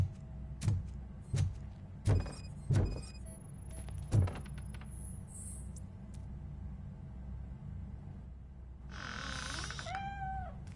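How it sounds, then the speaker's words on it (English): A cat in a PS5 video game gives a drawn-out meow near the end, after a few soft thuds and clicks earlier, alone with no talking over it. "The cat is fine."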